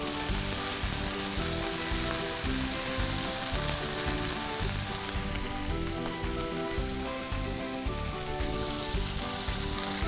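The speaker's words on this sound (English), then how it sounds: "I'm also gonna go ahead and add our onions now. They're just gonna caramelize in the pan with the steaks." Beef tenderloin steaks and onions sizzle loudly in a hot cast iron pan, a dense continuous crackling fry holding steady throughout with no talking.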